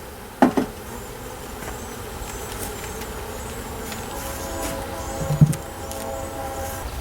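Honey bees buzz in a steady close drone from an opened hive during an inspection, with two brief knocks of the frames against the box.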